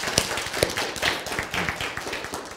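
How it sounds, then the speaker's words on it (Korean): Audience applause in a lecture hall, dense steady clapping from many hands at moderate distance, continuing evenly for a few seconds without speech. "박수!"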